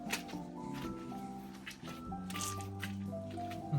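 Silicone sealant squelches wetly out of a tube into holes in a bus floor, giving a run of soft, close squishing and dripping sounds with faint tonal hum underneath.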